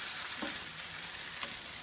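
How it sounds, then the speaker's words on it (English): Cold sauce hitting a hot wok and frying at once, a steady broadband sizzle throughout with a couple of brief louder spits, no talking. "You can hear the sound of the sauce, even though the sauce is cold, as soon as it hits the actual wok, it's frying up straight away"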